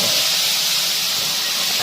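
A loud, steady sizzle hisses continuously as dal is poured into hot tempering oil in a pan, with no talking.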